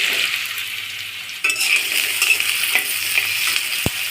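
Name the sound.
potato pieces frying in spice tempering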